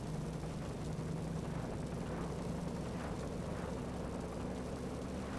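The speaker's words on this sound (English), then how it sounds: "Man, tailing the helicopter's not going to be fun." Helicopter in the video game Watch Dogs: a constant low rotor and engine drone under broad rushing noise, steady and fairly faint throughout, with no one speaking.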